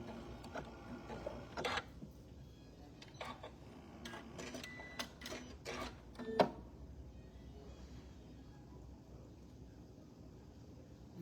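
A Janome Continental M6 sewing machine stitches an applique corner, quiet intermittent bursts of mechanical stitching and clicks separated by pauses, fairly faint, no talking.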